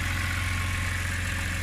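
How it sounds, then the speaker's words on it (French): Steady idle of a healthy BMW S54 3.2-litre straight-six from an E46 M3, swapped into a compact; a close, continuous low rumble with even pulsing and no talk. "un 3 litres 2 S54 de M3 E46 qui a toute sa santé"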